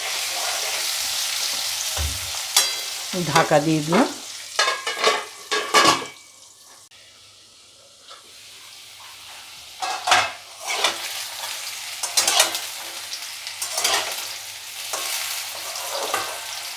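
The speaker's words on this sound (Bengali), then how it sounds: "আলুগুলো একটু নরম হবে, ভাজা হবে" Potatoes frying and being stirred in a pan before tender drumstick stems are added, a steady sizzle broken by scraping and clinking of utensils against the pan, with a brief spoken remark partway through.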